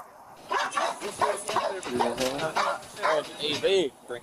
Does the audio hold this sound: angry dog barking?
yes